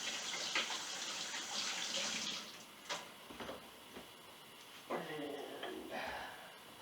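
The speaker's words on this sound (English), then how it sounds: "Let me wash my hands here." Hands being washed under a running kitchen tap mid food prep, a steady hiss of water with splashing bursts as hands move through the stream, close and fairly quiet.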